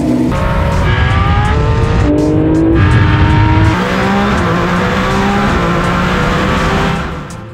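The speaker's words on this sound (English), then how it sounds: "It's not a rear engine anymore, it's a mid-engine, methanol breathing, 1400 horsepower, all-wheel drive beast." A mid-engine, methanol-fuelled, 1400 hp all-wheel-drive race car roars loud and close, its engine pitch stepping up through repeated gear changes with a hint of tire squeal, then easing off at the end.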